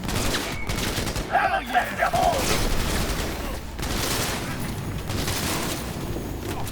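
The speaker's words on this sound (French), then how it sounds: "Et là, on repasse au fusil à pompe." Pump-action shotgun gunfire in the video game Cyberpunk 2077, several booming blasts over a busy combat soundscape, with someone talking over parts of it.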